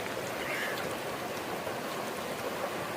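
A small, shallow mountain creek on a fall backpacking trail to Coral Lake rushes steadily, a close, even broadband wash of flowing water with no talking.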